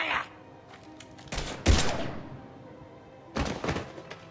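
Gunfire in the Mass Effect 3 video game, with a few sharp heavy shots and thuds separated by quieter gaps, then another burst near the end, close and moderately loud.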